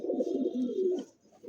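A white fancy pigeon, one of a big-sized pair, coos in a steady low throaty murmur, close and clear, with no talk, and fades briefly before a short final coo.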